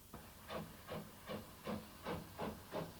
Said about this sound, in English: Moving to the Brittany Peninsula, Harry Dodge found more examples of French steam.